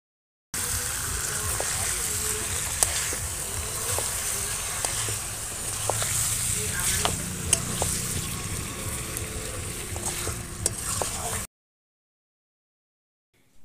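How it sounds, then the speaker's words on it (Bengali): Raw potatoes frying with chicken in a hot pan, being stirred: steady loud sizzle with scraping stir clicks throughout, then cutting off to silence. "আলু দিয়েও ভালো করে কষে নিয়েছি"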